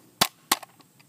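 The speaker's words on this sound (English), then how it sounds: "You push in from this side to drop the mag free" A magazine released from an FN SCAR 16S rifle and dropping free, heard as two sharp close clacks about a third of a second apart, followed by a few fainter rattles as it settles.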